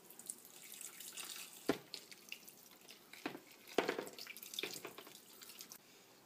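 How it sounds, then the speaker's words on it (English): Water being worked into sand to make quicksand, with irregular wet splashes and sloshes amid a soft trickling background, several sharper slaps standing out, with no talking. "Now I am going to start mixing water."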